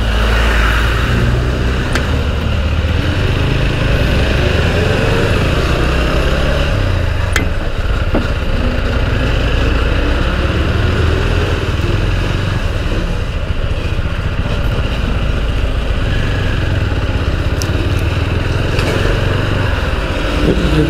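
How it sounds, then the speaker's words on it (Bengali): Heavy road traffic at Dudhia bridge, with motorcycles and cars rumbling and droning past continuously, loud and close, with occasional sharper engine revs and no talking. "প্রচণ্ড ট্রাফিক।"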